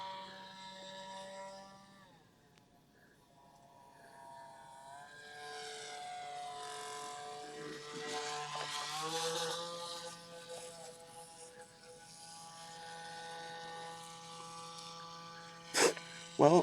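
Twin-motor RC pterodactyl model aircraft in flight, its electric motors making a steady buzzing whine whose pitch rises and falls as it passes, fairly faint and distant, with a couple of sharp bumps near the end.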